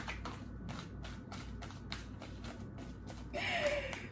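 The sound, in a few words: shuffling tarot cards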